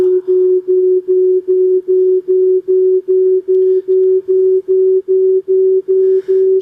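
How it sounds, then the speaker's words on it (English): A pure sine tone holds one steady pitch and pulses on and off in a fast, even rhythm, loud and alone. "So this, what you're hearing is a very pure vibration."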